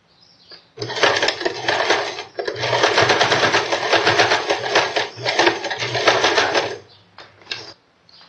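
A sewing machine stitches along a towel seam in a steady, fast mechanical whir that runs for several seconds, pauses briefly, then resumes before stopping.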